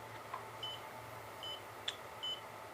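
A handheld prescription reader device gives several short, faint electronic beeps at intervals in a quiet room, each a brief high tone.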